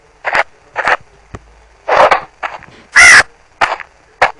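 A person mimics a crow's caw with a series of about eight short, loud vocal caws, spaced irregularly with brief silences between them.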